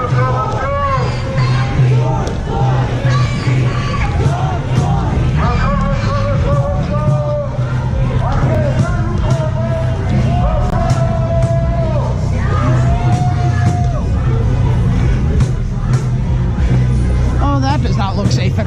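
A dense crowd at a downtown Portland street gathering talks and yells at once, close and loud, with whoops and shouts rising over a constant babble of voices.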